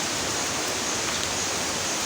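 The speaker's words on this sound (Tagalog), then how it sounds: "May ilog tayong nadaanan dito guys, no?" A river in the Palawan forest flows with a continuous broad rushing wash, steady and fairly close, with no other sounds.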